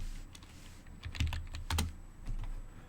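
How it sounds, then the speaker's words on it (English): Keys clatter on a computer keyboard in a short burst of typing, close and moderately loud with a few heavier keystrokes. "So we type it again."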